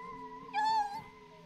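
A single short cat meow in the video game It Takes Two, clear and fairly close over a low steady game hum, rising briefly and then fading.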